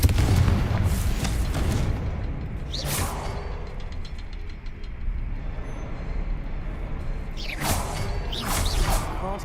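A Confringo fire spell in Hogwarts Legacy bursts with deep booming rumbles and sweeping whooshes, two swelling blasts standing out over a continuous low roar.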